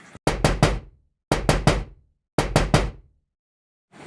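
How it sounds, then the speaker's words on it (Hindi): Knocking on a wooden house door in three evenly spaced groups of three sharp, loud, close raps, with silence between each group. "उसके खटखटाने से एक बूढ़ा व्यक्ति बाहर आता है"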